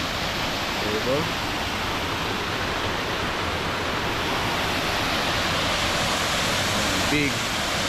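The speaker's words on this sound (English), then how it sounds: "top waterfall" Steady, loud roar of a big waterfall seen from its top on a Pacific island in Samoa, a dense unbroken rush of falling water filling the whole scene, with brief voices faintly over it.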